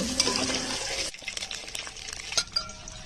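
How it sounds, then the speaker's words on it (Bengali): Hot mustard oil sizzles and crackles steadily in a pan as eggs fry with salt and turmeric, with a few scraping stirs and light metallic clinks; no voices. "কড়াইতে বেশ খানিকটা সর্ষের তেল গরম করে লবণ, হলুদ দিয়ে নাড়ি চাড়িয়ে ডিমগুলো দিয়ে হালকা ভাজে তুলে নেব।"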